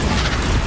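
A Bombarda spell goes off in Hogwarts Legacy, a brief, loud, dense blast of noise that fills the whole moment.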